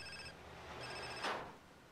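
A ringing phone in Grand Theft Auto: San Andreas gives two bursts of steady electronic trilling, separated by a short gap, followed by a brief noisy whoosh. There is no talk.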